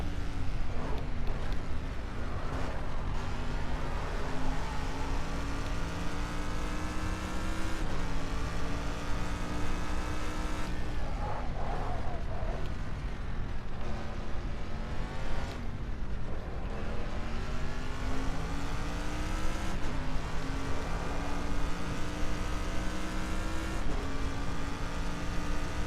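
Race car lapping Silverstone in a video game, a loud continuous engine whine that rises and drops with gear shifts and throttle through corners, running alone throughout.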